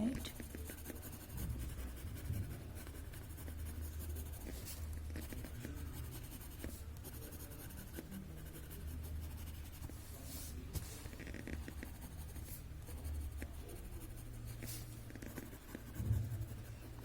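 A small pencil drawing Zentangle patterns on paper, with soft, close scratching strokes in irregular bursts alongside quiet background rumble.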